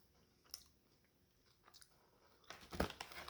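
A quiet crunchy bite into a Stuffed Puffs Big Bites Cinnamon Toast Crunch filled marshmallow, with faint crackles and then a louder burst of crunching chews near the end, up close with no talk.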